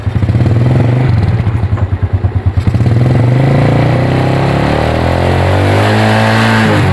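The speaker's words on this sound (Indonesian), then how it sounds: "coba kita gas lagi, digas" A Yamaha Vega R/Jupiter motorcycle engine revs loudly and close, with a throttle blip that pulses briefly before settling into a sustained high idle, no voices.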